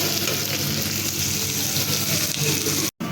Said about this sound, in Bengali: পেঁয়াজটা, রসুনটা, আদাটা ভালো করে ভাজা হয়ে গেছে।